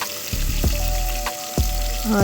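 Tomatoes sizzle in a pan after being added to hot oil, a steady close frying hiss broken by a few sharp scraping or clattering knocks of a utensil against the pan.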